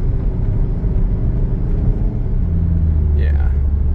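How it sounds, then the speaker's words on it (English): A car with a quarter-million-mile transmission drives along, a loud steady engine rumble and road drone from inside the cabin, with a brief pitch sweep near the end as it shifts, and a voice speaking over it. "Running nice, holding gear, shifting smooth."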